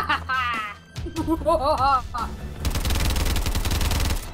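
Rapid automatic gunfire from a multiplayer match of Call of Duty Advanced Warfare bursts loudly and continuously through the second half, after brief laughter and talking at the start.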